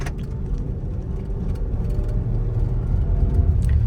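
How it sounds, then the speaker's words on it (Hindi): A car engine drones steadily at high revs, a loud continuous mechanical hum with no talking. "गाड़ी में से थोड़ा सा मतलब इंजन नॉइस जो है आ रहा था"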